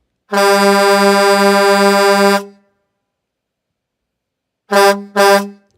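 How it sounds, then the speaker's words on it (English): A loud car horn blares in one long sustained honk, then after a silence gives two short quick toots, close and clear with nothing else heard. "Don't forget to honk the horn."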